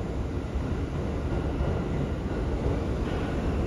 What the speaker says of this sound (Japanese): 特急列車もねこのようにねバンバン行き来するんですけども